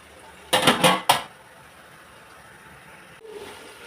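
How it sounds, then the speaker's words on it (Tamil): Metal lid set onto a cooking pot of mutton biryani masala, a quick cluster of three or four clattering clanks close by, followed by quiet with a faint low rumble near the end. "கொஞ்சம் மூடி போட்டு மூடி வச்சிடலாங்க"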